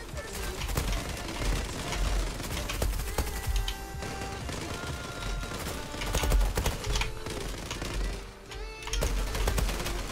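Automatic rifle fire in the online shooter Zula on the Persepolis map, a dense, continuous stream of rapid shots layered with game effects and background noise, with talk present in the mix.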